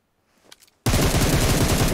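Automatic gunfire in PUBG Mobile erupts after brief faint noise, a loud, sustained rapid burst of shots that runs to the end.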